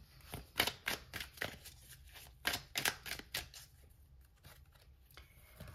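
Small encouragement cards handled and shuffled close by, a burst of crisp papery snaps and flicks in quick succession that then thins out into quieter, sparser rustles.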